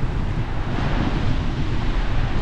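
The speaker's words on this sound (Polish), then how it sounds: "Silny wiatr jest, tę ławkę trochę przywiało bliżej morza." Strong wind gusts across the microphone at the seaside in the evening, a steady loud roar mixed with the wash of the sea, continuous with no talking.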